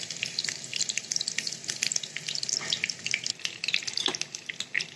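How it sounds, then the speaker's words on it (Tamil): Green chilies frying in hot sesame oil for an egg stir-fry, a steady crackling sizzle full of small pops and spits that keeps going close up with no talking. "ஹீட் ஆனதுக்கப்புறம் நம்ம வந்து இந்த மிளகாயெல்லாம் சேர்த்துக்கலாம்"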